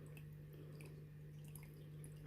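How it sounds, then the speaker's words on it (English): Water trickles slowly into a beavertail fairy shrimp tank, making faint, scattered drips and soft splashes over a low steady hum. "just so it slowly trickles in rather than pouring and disturbing everything I've put in there"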